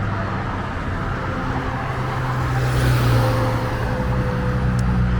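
An East Side High School bus rolls past on a dark street at night, a low rumble that swells to its closest point midway and then eases off, fairly distant and without talk.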